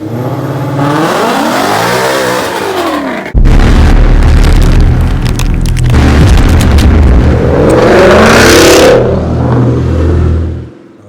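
A 2018 Ford Mustang GT V8 holds a steady idle-high rev, then launches hard at 2,000 RPM, roaring loudly up through the gears with a rising engine note before backing off, close and alone with no talk.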